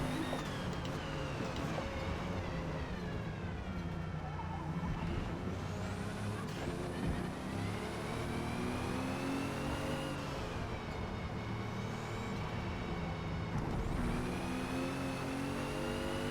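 A 2017 Alfa Romeo Giulia braking at Laguna Seca in Forza Motorsport. The engine drones loudly and continuously, its pitch dropping and climbing through gear changes.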